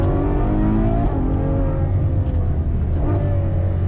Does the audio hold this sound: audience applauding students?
no